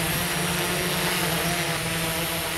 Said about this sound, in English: It picked those back motors up. And look at that liftoff.